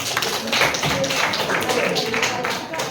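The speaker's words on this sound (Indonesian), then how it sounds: "Tepuk tangan untuk temannya" Students in a classroom clap together for a classmate, brisk, scattered applause that is fairly loud and close, with voices mixed in.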